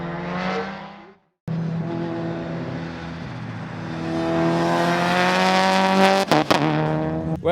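A turbocharged Mitsubishi Evolution race car with a Hollinger sequential gearbox, at the 2014 EVO Nationals, revs and accelerates loudly with rising engine pitch through gear changes and a short break before a second pull.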